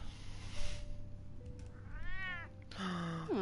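A cat in Telltale's Batman video game gives a couple of rising, wavering meows near the end, over a low steady game ambience with a faint hum.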